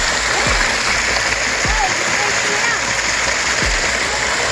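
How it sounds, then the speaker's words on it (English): An artificial waterfall pours into a fake rock grotto with a steady, loud, close rush of splashing water, broken by a few dull low thuds. "So we have the waterfall."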